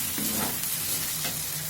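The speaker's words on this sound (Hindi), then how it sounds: "कुंदरी डाल करके अब इसे अच्छी तरह से मिला लेंगे" Fried kundru (ivy gourd) is stirred into sizzling masala in a hot pan, giving a steady, close frying hiss with soft scraping strokes of the spoon.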